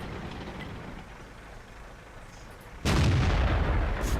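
An enemy tank cannon fires in World of Tanks, one sudden loud boom with a rolling tail that cuts in after a few seconds of quiet low engine rumble.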